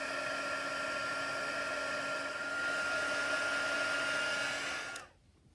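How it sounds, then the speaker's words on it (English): Heat tool blasting ink on a Bible journaling page, a steady loud whirring blower hum held close for about five seconds before clicking off. "I'm going to heat blast that as well"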